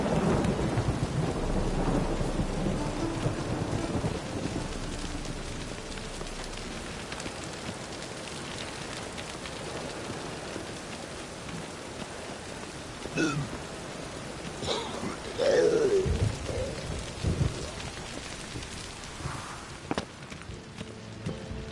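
Steady rain pours over low rolling thunder in The Witcher 3: Wild Hunt on PS4, with several closer thunder cracks and rumbles breaking through the constant hiss of rainfall.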